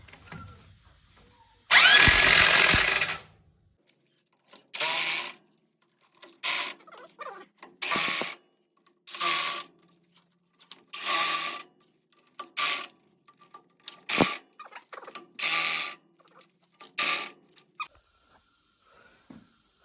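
Wheel hub on a ZIL 4331 truck with an OM366LA engine being tightened with a power tool, one long opening burst followed by about a dozen short, evenly spaced loud bursts separated by near-silence.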